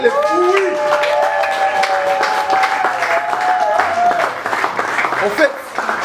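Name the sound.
applause for the daughters at wedding anniversary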